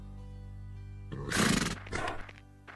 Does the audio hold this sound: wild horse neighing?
yes